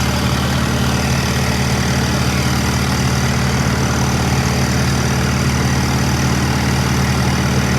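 A tractor engine idles nearby with a loud, steady low chugging drone that never changes pace.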